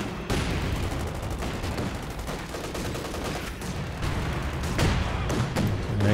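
Mortar rounds landing in the World War II strategy game Company of Heroes 2 during a large 4v4 battle: heavy thumping impacts within dense, continuous gunfire and battle noise, with no clear speech.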